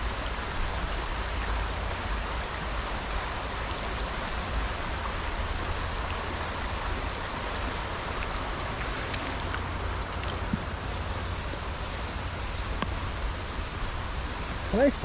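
A small stream flowing through the grounds of a leisure centre in Newtownabbey, Belfast, giving a steady, broadband watery hiss with faint droplet-like ticks throughout, close and continuous, with no talk.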